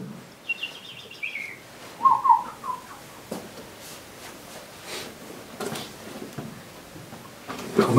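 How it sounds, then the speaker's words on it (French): Birds chirp and whistle in short, scattered phrases, fairly faint against a quiet outdoor background with a few soft knocks. "Et écoute les oiseaux, là."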